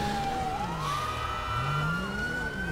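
A police car siren in GTA V with the LSPDFR mod wails in a steady rising and falling sweep, loud and continuous with engine noise underneath.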